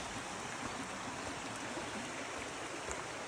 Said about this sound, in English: We've been walking alongside this creek.